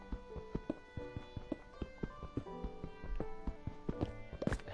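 A horse in the video game Minecraft clip-clops along on hooves, quick rhythmic hoofbeats tapping at close range throughout, fairly quiet, with no talking.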